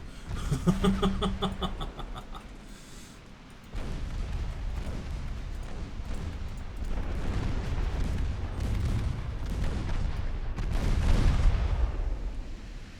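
Warship guns firing in the naval battle game Ultimate Admiral Dreadnoughts, a continuous roar of heavy booms and rumbling salvos layered over one another, loud and sustained throughout.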